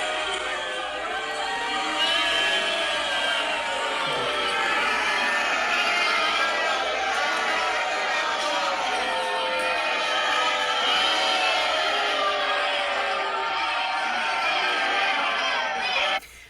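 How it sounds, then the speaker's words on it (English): A large crowd at a political debate boos and jeers as a woman with a walker and a Talarico sign is escorted out, a sustained loud roar of many voices with shouting and whistles throughout. "So presumably she's getting booed there"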